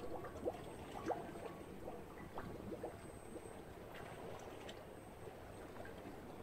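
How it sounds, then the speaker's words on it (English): Soft bubbling water, faint and continuous, with small irregular gurgles and drips rising from a low watery wash. "It's just got that bubbling sound,"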